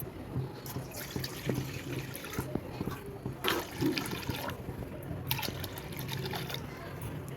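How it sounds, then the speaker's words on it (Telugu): Water from three glasses poured into a pan in a home kitchen, the first step of a rice-flour murukku vadiyalu recipe. It sounds like a steady splashing and trickling pour with a few soft clinks, at moderate level. "మూడు గ్లాసులు నీళ్లు పోసుకోవాలి"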